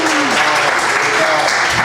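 Audience applause for a DJ rises as a dense, loud wash of clapping filling the short moment, with a few voices mixed into the crowd noise.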